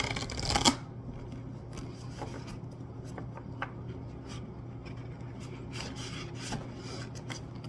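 Tarot cards shuffle close and quiet, a brief burst of riffling followed by soft rubbing and scattered light card taps.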